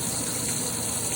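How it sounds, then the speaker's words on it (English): Hot water runs steadily from a kitchen tap into a strainer or colander, a continuous close rushing gush with no breaks and no talk over it. "Just run a bit of hot water through it."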